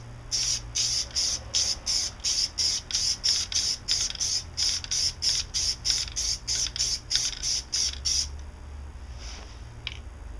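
An aerosol can of PlastiDip sprays a coat onto a 2002 Audi S4, with about fifteen short hissing bursts in a steady rhythm, close and fairly loud, then a quieter stretch with a couple of faint taps.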